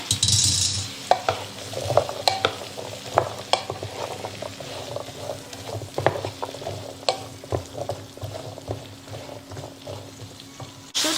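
Chopped potatoes and a large carrot tumble into a pot of toasted turmeric, followed by steady stirring and a close, continuous sizzle with scattered clinks and scrapes throughout.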